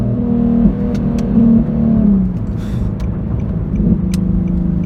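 A modified 2011 Infiniti G37xS coupe engine revs loudly and close on quick downshifts, rising and falling several times with sharp blips, no talking over it.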